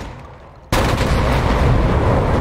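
A gunshot in a GTA FiveM roleplay game erupts as a sudden loud blast, giving way to dense sustained noise that continues at full level for the rest of the clip.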